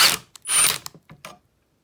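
A 13mm ratchet backs bolts off an intercooler pump in a car engine bay, two quick bursts of close, loud mechanical ratcheting followed by a few short clicks, then silence.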